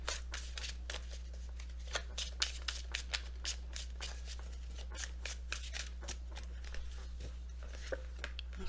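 Tarot cards being shuffled by hand, a rapid, close run of crisp riffling snaps and flicks over a low steady hum, with no talking.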